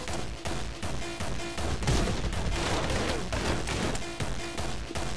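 Rapid gunfire in the video game Anger Foot: dense, loud bursts of shots firing in quick succession almost without pause, with no talking over it.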